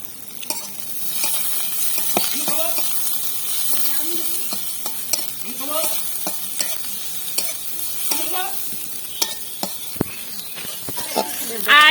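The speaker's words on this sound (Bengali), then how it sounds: "পেঁয়াজটাকে ভেজে নেবো প্রথমেই আমরা" Onions fry in a wok with a continuous close sizzle, broken by repeated scraping and tapping strokes of a stirring spoon against the metal.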